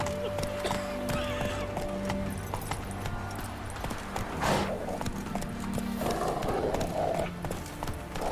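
Horse galloping in The Witcher 3, rapid rhythmic hoofbeats close by with a whinny and snorts, over game music and scattered voices.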